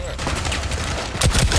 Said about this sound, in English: Alright, Alex, lay a bunch of gunfire.